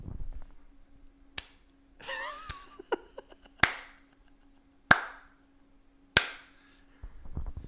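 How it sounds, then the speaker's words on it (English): A slow clap of four loud, widely spaced single hand claps, each ringing out sharply with a short room echo, preceded by a brief burst of indistinct chatter. "Sorry, I had a slow clap."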